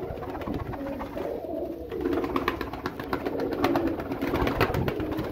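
Feropuri breeder pigeons cooing steadily nearby, soft overlapping coos with a faint background rumble.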